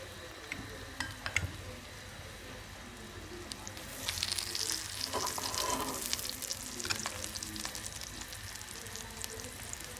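Mawa paratha fries on a hot pan with a steady sizzle that swells louder partway through, close and with no talk over it.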